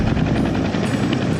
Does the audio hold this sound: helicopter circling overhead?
yes